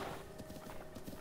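Horses galloping across an open field in Zelda: Breath of the Wild, a steady run of hoof clip-clops with a brief whinny, mid-distance against a busy game soundscape.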